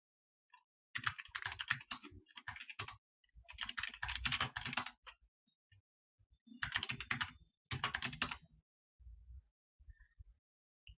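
Typing on a computer keyboard while entering text into a file on Linux, with close, quick key clatter in several bursts separated by short pauses, then a few lone keystrokes.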